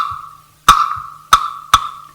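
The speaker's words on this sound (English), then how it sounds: "So 3, 2 rumba clave sounds like this." A clave plays a 3-2 rumba clave rhythm: three sharp wooden clicks ring out with a bright, hollow tone in an uneven pattern, spaced with a quiet gap before the first.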